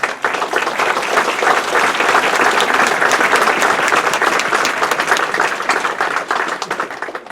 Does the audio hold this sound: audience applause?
yes